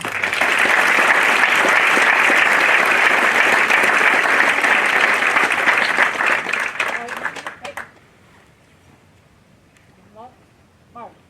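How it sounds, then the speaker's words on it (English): A large audience at a military cadet graduation ceremony gives awardees a loud, sustained round of applause that fades out after about eight seconds into near silence with a few faint sounds. "let's give our awardees another big round of applause"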